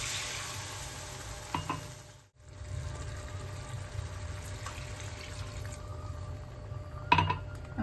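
Two cups of water poured into hot masala in a pan for cabbage kofta curry, giving steady close sizzling and bubbling with a couple of brief clinks of a utensil, a short pause midway, then continued simmering hiss.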